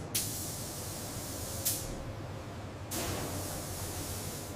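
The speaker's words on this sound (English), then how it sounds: "Robotic arms spray primer evenly across the body." Robotic arms in a car factory spray primer onto a car body, giving a steady hissing spray noise with sharp bursts at the start of each pass, three in quick succession.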